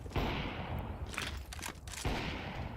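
Counter-Strike gunfire during a BLAST Open Rotterdam 2026 esports match, a few sharp shots cracking over dense, steady in-game noise with a brief lull midway before the din returns.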